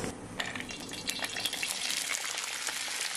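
Vegetables (thattakkai) frying in coconut oil in an iron pan tempered with mustard seeds and asafoetida, a steady close crackling sizzle with light stirring scrapes and small pops throughout, no talking.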